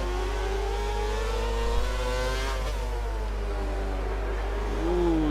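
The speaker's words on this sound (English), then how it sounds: "you can hear Sav's car sliding through the corner" In the F1 2013 racing game at the Nürburgring, a Formula 1 car drifts through a corner, its high-revving engine droning loudly and continuously, with pitch shifting as the revs fall and pick up again.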